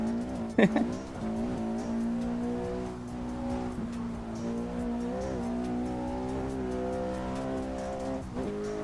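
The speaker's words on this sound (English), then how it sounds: "The S60R has a very nice 5-cylinder turbo engine. And when they have catlets like my car, it sounds like a mini V10" A Volvo S60R's five-cylinder turbo engine with catless exhaust, driven in the Assetto Corsa racing game, holds a loud, steady buzzing drone that rises and shifts pitch through gear changes, with a brief tire squeal early on and talk over it.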